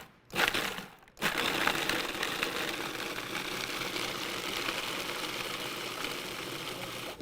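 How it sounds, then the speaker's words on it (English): Raw hazelnuts with sugar and salt grinding in a food processor, a brief burst, a short pause, then a loud continuous whirring and rattling of nuts against the blade that runs on steadily. "we're gonna grind this up until it's really fine"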